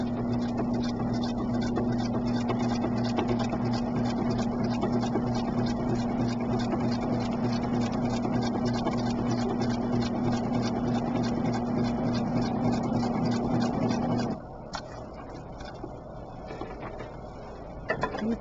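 A sewing machine runs steadily through a quilt block seam with a close, even mechanical whir. The stitching stops near the end, leaving quieter handling sounds.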